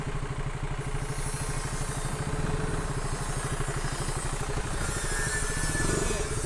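A motorcycle engine idles with a steady, rapid mechanical throb and light clatter, close and continuous throughout, with faint background murmur.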